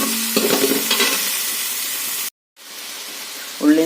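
Sliced onions and shallots sizzling and hissing in hot oil in a pan, with a steady, close frying sound, a brief cut to silence, then the frying resumes with a stir.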